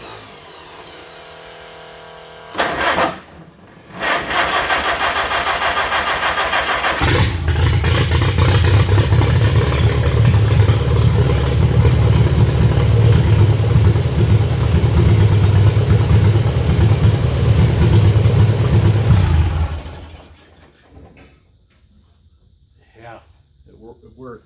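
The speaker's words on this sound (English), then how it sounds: "Pump, ignition, starter." A WC vehicle's starter cranks in short bursts until the engine catches. It then runs loud and close with a steady rumble for about thirteen seconds before shutting off into near silence.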